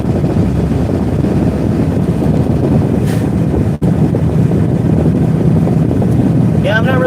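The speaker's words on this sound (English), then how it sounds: "I'm just driving back home." Loud, constant low rumble and wind buffeting inside a vehicle driving on the road, with road noise steady throughout and a brief dropout midway.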